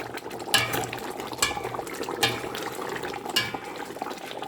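Sliced potatoes simmer in broth for beef pochero, a steady bubbling wash broken by four regular stirring swishes and soft pot clatters, close and moderately loud with no talking.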